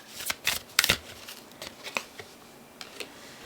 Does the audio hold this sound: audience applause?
no